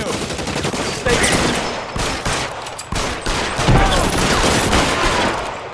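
Rapid, loud gunfire from a shootout in the video game L.A. Noire, continuous bursts and overlapping shots filling the whole stretch with no pauses.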